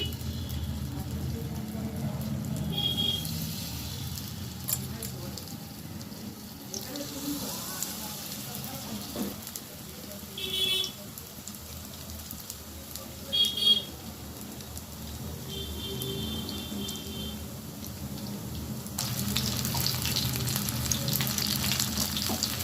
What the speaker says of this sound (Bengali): তেলটা গরম হয়ে গেছে, আমি এবারে ব্যাটারে চুবিয়ে ফুলকপিগুলোকে ছেড়ে দিচ্ছি।